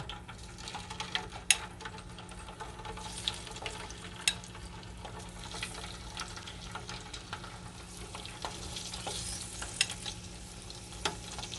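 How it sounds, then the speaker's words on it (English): Salmon fries in oil kept at a slow, low heat, giving a continuous fine crackle and sizzle with scattered small pops, heard up close and fairly quiet, with no talking. "And now it's time to fry our salmon."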